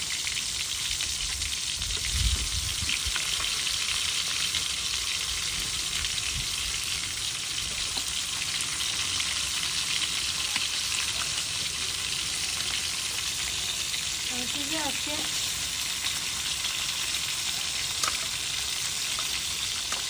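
Fish frying in a pan over a clay stove gives a steady, close sizzle and crackle that runs through the whole stretch, with a few brief clinks and stirs and no talk.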